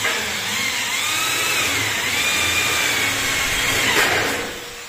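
A power drill whines steadily through Hardiflex fiber cement board during drywall installation, a close, continuous high-pitched grinding that fades at the end.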